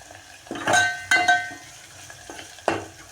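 Spices with turmeric powder and asafoetida stirred in a pan while cooking moong dal amti, a few separate scraping, clinking strokes with brief pauses, fairly close and moderately loud.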